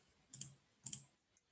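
Two quick, crisp computer mouse clicks, a short double-click heard alone and close in a quiet room.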